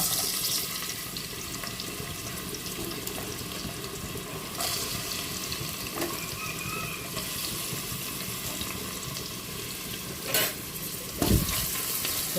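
Sliced onions frying in ghee in a pan, a steady broadband sizzle running throughout with a few louder clatters near the end, no voices.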